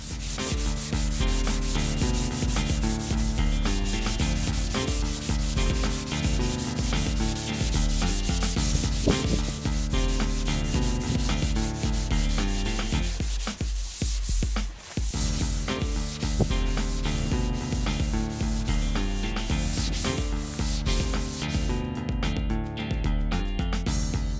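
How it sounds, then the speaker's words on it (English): Block sanding the car body of a 1980 MK1 Volkswagen Rabbit down to epoxy primer, a continuous close, harsh abrasive rasp of steady back-and-forth strokes that runs unbroken throughout, with no voices. "as I sand through it down to the epoxy primer"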